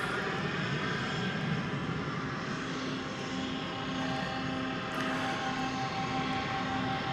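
A Boeing 737-800, American Airlines, holds on runway 18 left at Dallas/Fort Worth airport, its engines giving off a steady, broad roar that stays loud throughout, with a faint tonal whine running beneath.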